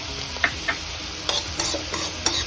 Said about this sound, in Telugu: ఆవాలు మెంతులు వేపుకుందాం